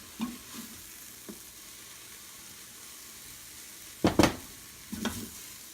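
Oil-free dumplings are lifted out of a pan into a bowl, with a soft background sizzle, a few light taps, and a louder clatter of utensil against pan and bowl near the end.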